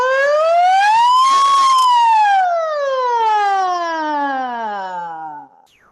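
A single voice imitates a siren during a voice class exercise, sliding smoothly up in pitch and then gliding slowly back down before stopping abruptly.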